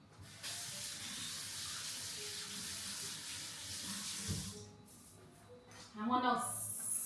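Soapy spoon rinsed under a running kitchen tap, a steady hiss of flowing water for several seconds, then a brief clatter and splash near the end as the spoon is handled, with speech over it.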